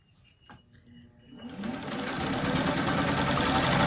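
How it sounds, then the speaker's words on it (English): After a few quiet clicks, a sewing machine starts up and runs at a steady, fast whirring pace, stitching fabric scraps together from corner to corner. "I'm sewing from corner to corner."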